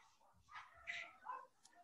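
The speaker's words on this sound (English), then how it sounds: "Oh, now the dogs are going crazy." Small dogs bark and yip faintly in the distance indoors, a few brief high sounds over low room noise.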